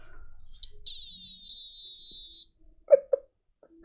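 A USB rechargeable door chime sounds a single sustained electronic tone lasting about a second and a half after a short click. A couple of faint knocks follow in near silence.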